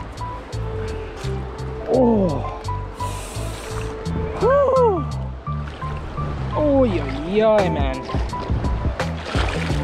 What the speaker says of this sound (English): it's now time to go hop in the creek